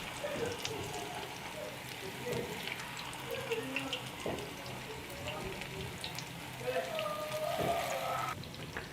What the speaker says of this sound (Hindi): इसको ऑयल में डाल के ना इसको फ्राई कर लेना है